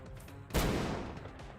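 A flashbang grenade detonates in the tactical strategy game Long War, a single loud, close bang partway through that decays into a rumbling tail.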